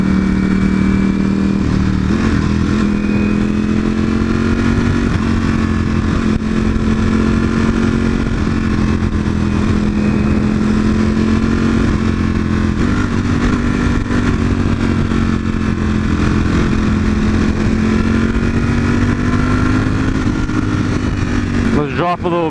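A V4 motorcycle engine hums steadily while the bike is ridden, its pitch rising and falling gently with throttle, under continuous talking.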